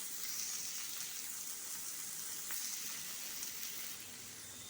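Shrimp frying in a pan, a steady hiss of sizzling oil that holds at an even level for the whole stretch, with no talk over it.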